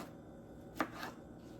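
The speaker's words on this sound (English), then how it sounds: "I'm just chopping them up, okay? Diced tomatoes." A knife cuts through ripe tomatoes on a board for dicing, a single sharp chop followed by a softer second cut, quiet and close with no talking.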